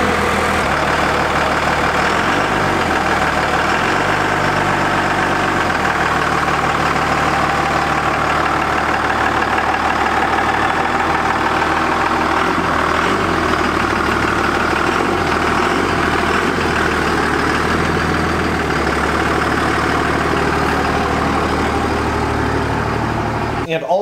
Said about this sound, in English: Batteries are hooked back up, ready to start it up,